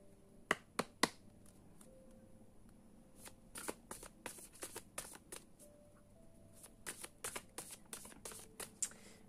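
A deck of tarot cards is shuffled close by, crisp flicking riffles and snaps arriving in quick, uneven clusters against a quiet room.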